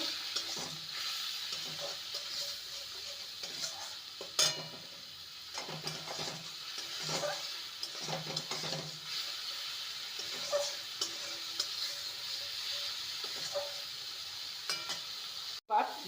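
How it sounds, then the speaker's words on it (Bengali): Spices and salt stirred and sautéed in a hot pan for an egg and cabbage curry: a continuous sizzle with intermittent scraping spatula strokes and a few sharp utensil clinks, close and without speech. "স্বাদ অনুযায়ী লবণ সমস্ত কিছু ভালো করে কষিয়ে নেব"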